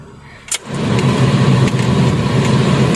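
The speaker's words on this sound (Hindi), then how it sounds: "लो जी, आप देख सकते हैं मैंने गाड़ी भी स्टार्ट कर ली है।" A car engine turns over with a short sharp catch and then settles into a loud, steady, close running hum that continues alone to the end.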